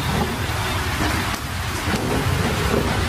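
Heavy rain and a thunderstorm in the Sakura School Simulator game, a steady dense downpour roar with low rumbling thunder running throughout, with no voices.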